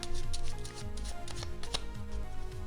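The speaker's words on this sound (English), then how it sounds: "I just shuffle one 7 to the top." Playing cards are shuffled during a card magic routine, giving a series of quick papery riffles and snaps close up, with a sharp flick near the middle and faint background hum.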